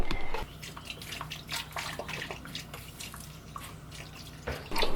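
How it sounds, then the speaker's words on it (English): Coolant poured into a car's cooling system makes a steady liquid gurgle and splash with irregular drips, close and continuous, with no voices. "We just have to fill her up with coolant"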